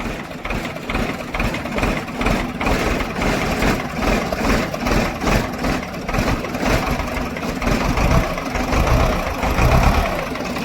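A wheel loader's diesel engine rumbles and revs continuously at close range, a heavy, knocking drone that swells and eases without a break and with no voices.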